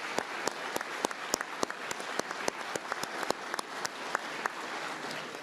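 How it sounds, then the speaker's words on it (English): Sustained crowd applause with many hands clapping steadily, punctuated by a few sharp, louder claps, continuous throughout. "Let's give them a big round of applause."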